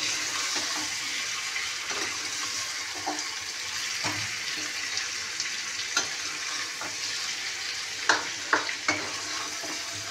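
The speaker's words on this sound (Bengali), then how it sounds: "চলুন মশলাটাকে আমি একটুখানি কষিয়ে নিই" Spice masala for a quick potato curry fries in a pan, a steady hiss of sizzling broken by scattered scrapes and taps of stirring, close by with no talk.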